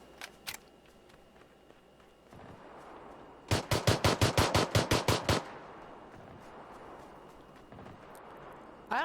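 Automatic gunfire in PUBG: a rapid burst of about a dozen evenly spaced shots, moderately close, preceded by a couple of faint distant pops and low ambient game noise.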